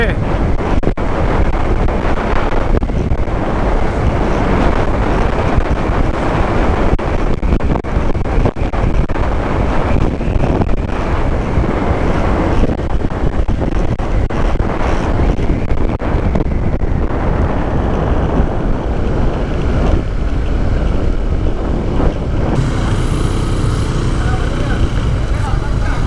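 Strong wind buffets the microphone continuously while a Honda PCX 160 scooter rides along a mountain road. A steady loud rush of air covers everything, and faint voices may be buried beneath it.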